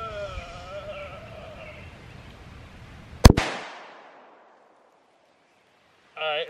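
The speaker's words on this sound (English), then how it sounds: "Nine mil this time. Let's see if it's his muzzle blast won't destroy the target." A single sharp 9mm pistol shot strikes a firework target outdoors, with a loud crack and a brief ringing decay fading to silence, followed later by a short burst of noise.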